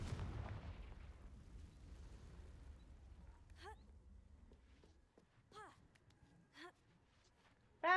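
Confringo fire spell explosions from Hogwarts Legacy: a rumbling blast opens, then a few sharp whooshing bursts go off at spaced intervals, the last one loud and close, with light game noise between.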